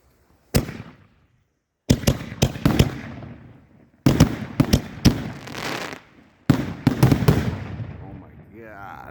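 Golden Rain Pro 62mm professional reloadable firework shells, rack-loaded in a ten-shot setup, fire in quick succession: sharp launch thumps, then loud bursts with crackling tails, arriving in clusters of several close shots separated by brief pauses.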